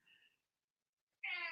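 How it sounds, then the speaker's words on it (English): A house cat whines in the background of an indoor conversation, two short faint cries, the second louder and more drawn out. "I don't know if you're hearing my cat whine in the Yeah, background."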